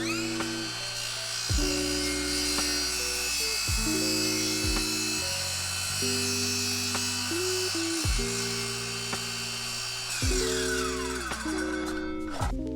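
A power saw cutting a plywood sheet: the motor repeatedly whines up to a steady pitch, holds through each cut, then winds down, over a constant high buzz, close and fairly loud.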